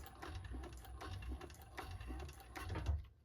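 A sewing machine runs a tote bag seam with interfacing in bursts of rapid mechanical stitching, pausing briefly between runs, close and steady with a low motor hum underneath.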